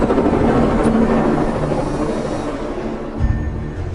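A steady, broadband rotor and engine roar fills the whole stretch, loud and continuous, like a helicopter flying nearby.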